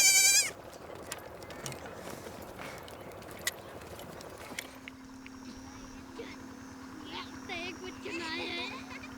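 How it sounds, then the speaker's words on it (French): Goats and young kids bleat while being taken to buyers in the Terai, with a loud close bleat at the start, then fainter calls scattered under a steady background hum and voices. "Elle achemine quelques chèvres et cabris qui ont été vendus la veille."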